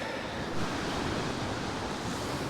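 Strong wind and heavy rain roar steadily on a Dorset sea shore during Storm Darragh, forming a dense unbroken wash of noise with surf blended in and no voices.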